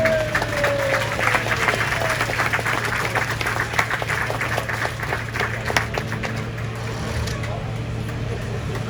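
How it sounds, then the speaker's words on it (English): An audience applauds at a fire brigade rescue demonstration, steady dense clapping filling the whole stretch with faint background noise underneath. "Our BA team have rescued the first casualty, which is a round of applause"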